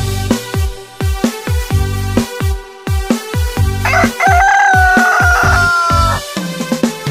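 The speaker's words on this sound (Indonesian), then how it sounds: "Kakinya bertanduk, ayam jantan namanya." A rooster crows loudly and clearly, a long drawn-out call rising over a steady, rapid clucking and rhythmic clatter of nearby fowl.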